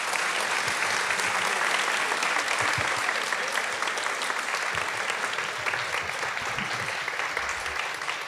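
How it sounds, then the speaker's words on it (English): A room full of audience members gives a steady, dense round of applause for a panel, clapping continuously and loudly for the whole stretch. "One last round of applause for you."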